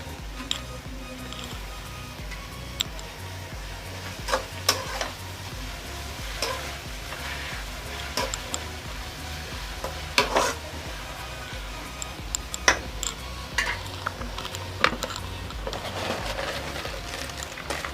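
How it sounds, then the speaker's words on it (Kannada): Chicken masala with tomato and green chilli fries in a pan, a continuous low sizzle broken by frequent sharp clicks and scrapes of stirring, close and steady throughout. "ಚೆನ್ನಾಗಿ ಬ್ರೌನ್ ಕಲರ್ ಆಗೋವರೆಗೂ ಫ್ರೈ ಮಾಡಬೇಕು."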